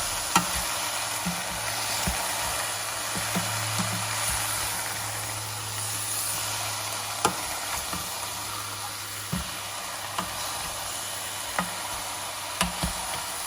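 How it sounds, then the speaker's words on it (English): Seasoned food fries in a pan with a steady sizzle, and a utensil gives occasional sharp clicks and scrapes as it stirs. A low hum sits underneath for a while. "I'm gonna give that a stir."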